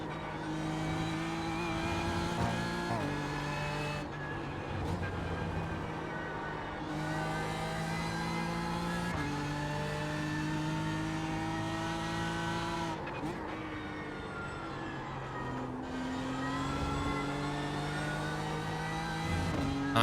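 A BMW M4 GT3 race car in iRacing revs hard through the gears, its engine note climbing and dropping in repeated shifts, loud and continuous from the cockpit.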